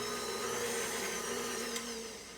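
Electric kitchen mixer beating sugar for trail mix cookie dough, a close, steady motor whir with a slight wobble in pitch that eases off near the end.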